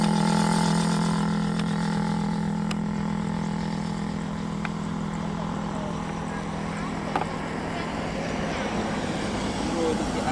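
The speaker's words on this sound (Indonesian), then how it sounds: "ada pesawat satu lagi" Steady droning engine of an aircraft near a beach, a continuous loud hum with a low tonal rumble throughout, with no clear pass-by swell.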